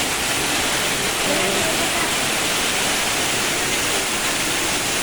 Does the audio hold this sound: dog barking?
no